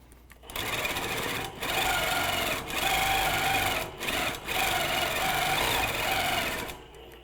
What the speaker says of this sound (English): So I'm going to take off quilting and go a ways to where I'm in a position where I can get back over to my needle